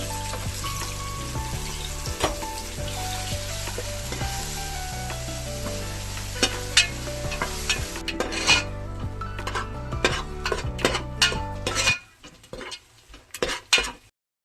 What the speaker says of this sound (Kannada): ಚೆನ್ನಾಗಿ ಹಸಿ ವಾಸನೆ ಎಣ್ಣೆ ಬಿಡೋ ತನಕ, ಚೆನ್ನಾಗಿ ಹಸಿ ವಾಸನೆ ಹೋಗೋ ತನಕ ಹುರ್ಕೊಳ್ಬೇಕು